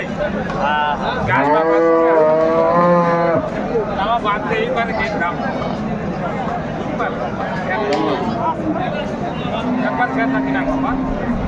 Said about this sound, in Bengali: যা গাভী বাছুর আমরা দেখছিলাম এখানে বেশ সুন্দর কোয়ালিটির